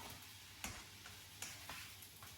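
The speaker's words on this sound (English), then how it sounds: "You just keep stirring through your tomatoes." Tomatoes sizzling gently in a frying pan while being stirred, with a steady soft hiss and a few scraping clicks from the utensil, faint and alone.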